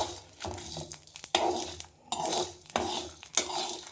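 Red chillies and cardamom dry-roast in a pan over a low flame, with a busy rattle of spices and a utensil scraping and clinking against metal in quick, uneven bursts, close and fairly quiet.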